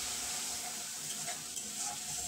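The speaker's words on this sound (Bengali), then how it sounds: "এবারে মশলাটা ভালোভাবে কষে নেব।" Spice paste for a vegetarian okra dish sizzles softly as it is fried and stirred in a pan, an even, fairly faint hiss with light scraping movements.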